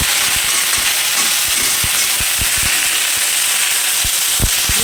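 Curry leaves and white mustard seeds frying in hot oil in a kadai, a steady loud sizzle with scattered sharp pops and crackles throughout, no voices.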